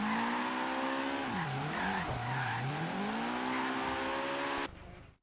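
Nissan 240SX in Forza Horizon 3 spinning its wheels, a loud sustained engine drone with screeching tire squeal that dips in pitch mid-slide, then cuts off abruptly near the end.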